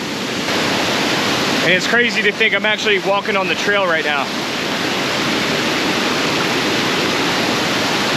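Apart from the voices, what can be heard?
water rushing through rocks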